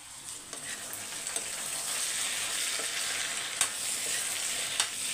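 Potatoes being mixed and roasted in a pan give off a steady close sizzle, broken by a few sharp scrapes and knocks from the stirring spoon, with no talking.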